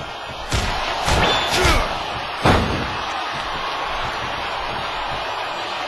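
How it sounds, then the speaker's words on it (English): A heavy 400-pound wrestler is driven into the mat with a running powerbomb at a live wrestling event, one of several loud thuds over crowd noise and commentary. "now Doomsday has the big 400-pounder up for a running powerbomb"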